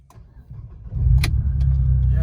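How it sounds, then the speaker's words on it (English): Alfa Romeo 159 with a 2.2 JTS petrol engine, its battery recently flat, cranks briefly and catches, settling into a steady close idle rumble with a sharp click or clunk near the start of the run. "So I shall crank it up again."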